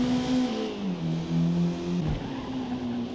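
In the Forza Motorsport racing game, a race car engine holds a steady high whine on a straight, then dips in pitch as it slows, loud and continuous with no talk.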